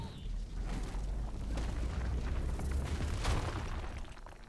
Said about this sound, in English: We can cast that rock explosion again.